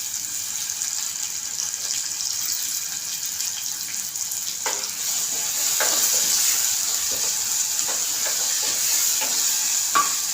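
Onion and tomato frying in a pressure cooker for soybean pulao, a steady loud hiss of sizzling oil with occasional spoon knocks and scrapes against the pot, close up and without talk.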